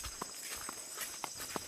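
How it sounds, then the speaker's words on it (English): Footsteps walking, a few soft, fairly faint steps spaced irregularly over a steady background hiss. "The sounds of footsteps walking, and walking,"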